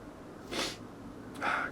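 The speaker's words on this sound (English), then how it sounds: "got the sniffles" Two short breathy sniffs about a second apart, close and fairly quiet, with no talking.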